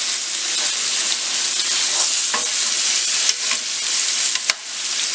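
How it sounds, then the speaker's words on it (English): Filet steak browns in a hot pan with a loud, dense, close sizzle that runs without a break, marked by a few brief crackles and pops toward the end. "I'm going to brown that filet on both sides."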